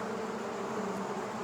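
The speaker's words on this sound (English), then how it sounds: "The bees were too cold to be cross, so they buzzed around the fireman" A steady, close swarm of bees buzzes continuously around a warm steam engine's fireman, a dense unbroken hum with no talking.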